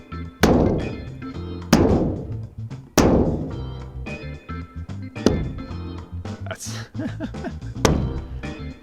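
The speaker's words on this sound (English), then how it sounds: "just whacking the side of the van with my hand" A hand whacks the side of a van lined with sound-deadening material, giving six or so heavy, muffled thumps spaced a second or two apart, loud and close, each ringing briefly before fading, with a voice talking between hits.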